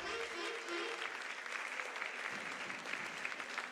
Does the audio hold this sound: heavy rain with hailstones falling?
no